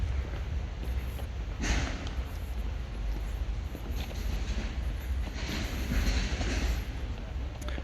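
A train rumbles past Surrey Hills railway station at night, a continuous low, heavy rolling roar with bursts of wind buffeting the microphone as it goes by.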